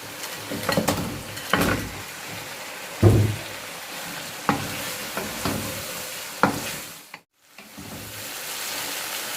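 Fish in a tomato masala for a Sindhi fish masala sizzles under repeated scraping stirs and turning strokes, which land in uneven bursts, and a short pause of near silence falls near the end.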